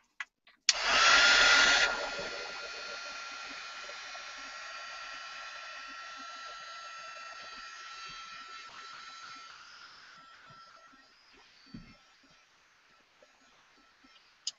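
A handheld dryer blows over freshly applied rusty metal effect paint, starting with a loud surge and then running at a steady whir for several seconds before fading, with a click near the end.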